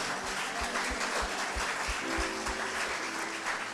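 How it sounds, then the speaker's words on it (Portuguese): A church congregation applauds during an emancipation festival service, the clapping falling into a steady rhythmic beat with sustained tones underneath, moderately loud and continuous with no talk. "Você pode dar um aplauso ao Senhor por todos que passaram por aqui."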